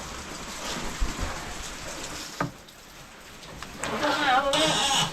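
Steady rain pattering down with a few sharp drops and splashes, growing heavier near the end, with faint voices in the background.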